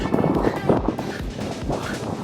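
Strong wind buffets the microphone during an outdoor training run at Wilhelmshaven, a steady, loud, broadband roar with gusting surges throughout.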